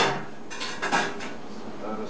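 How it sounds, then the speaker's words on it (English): Metal lid lifted off a homebrew kettle of steeping grains, a quick cluster of close clanks and scrapes lasting a couple of seconds, with no voices. "Take the lid off."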